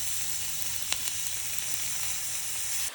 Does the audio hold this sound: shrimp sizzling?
yes